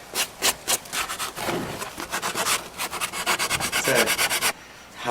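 Sandpaper rubs along the edge of a rustic wooden American flag shaped like the USA, making steady, rhythmic back-and-forth rasping strokes that are close and fairly loud.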